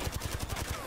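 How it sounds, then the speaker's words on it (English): Rapid burst of shotgun fire in Apex Legends, about nine sharp, evenly spaced blasts packed into under a second, fairly close and punchy. "Shotgun him."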